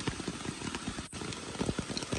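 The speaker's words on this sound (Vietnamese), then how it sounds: "Thì trời đang mưa." Rain falls in a deep forest, a close, dense and continuous patter of drops on leaves and surfaces, with no one talking.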